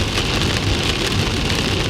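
Heavy rain in an Indiana thunderstorm pours down as a dense, steady roar of drops on surfaces, loud and continuous with no voices.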